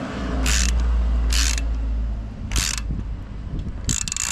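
Wrench turning the chain adjuster bolt anticlockwise on a Triumph Bonneville motorcycle, giving four short bursts of metallic ratcheting clicks spaced about a second apart over a low steady hum.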